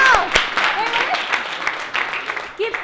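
Audience applause at a keynote event, dense clapping throughout with a few voices and whoops mixed in, fairly loud and steady.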